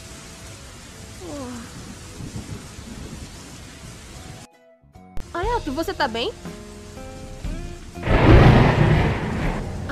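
Thunderstorm with steady rain on surfaces, a loud rolling thunder burst near the end, with voices speaking in Portuguese during the first half.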